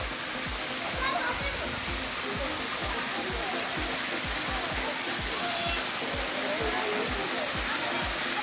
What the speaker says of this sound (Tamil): இதுதான் கோதையாறு ட்வின் ஃபால்ஸ்